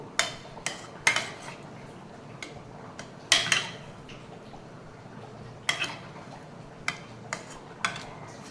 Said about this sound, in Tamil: இதை நம்ம லைட்டாக கொஞ்சம் மசிச்சு விட்டுக்கலாம்